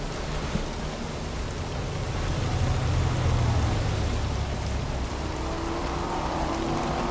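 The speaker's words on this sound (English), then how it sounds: "I don't think much of this rain." Heavy rain in American Truck Simulator pours steadily throughout, a dense hiss of drops with a low rumble underneath.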